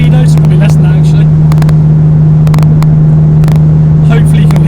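An Alfa Romeo 147 GTA with its Busso V6 engine cruises steadily in sixth gear at about 70, giving a loud, constant drone with a strong low hum heard from inside the car, while a person talks over it.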